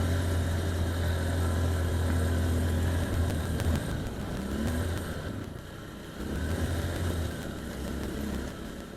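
A motorcycle climbs a mountain road on Tablas Island, its engine droning steadily close by, easing briefly midway before picking back up, with wind rush throughout and no talking.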